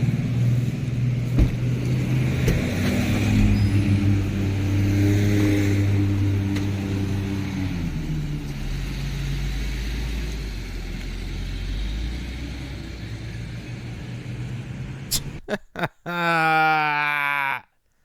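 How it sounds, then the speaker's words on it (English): Cars driving away from a residential property, engines rumbling and accelerating as they pull off and fade into the distance, followed by a brief loud clunk and a voice at the end. "Did you also notice that they pulled up in one car and pulled away with another?"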